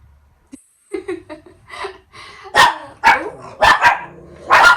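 Several loud dog barks in quick succession, getting more intense, with a few softer whines and yips before them.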